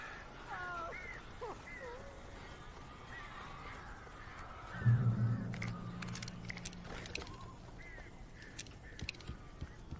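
Crows caw in the video game Alan Wake, giving a few harsh calls early on against a steady ambient bed. A low droning rumble then swells in the middle, and scattered clicks and rustles follow.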